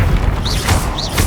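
Heavy booming blasts from the Bombarda spell in Hogwarts Legacy, two short low thumps about half a second apart, each with a brief bright crackle, loud and close.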